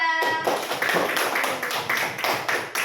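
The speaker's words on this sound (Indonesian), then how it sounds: "Beri tepuk tangan untuk kelompok 2" Applause from a classroom of students for a student group, a dense run of many hands clapping that carries on steadily for a few seconds after a brief quiet start.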